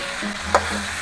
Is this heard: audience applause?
no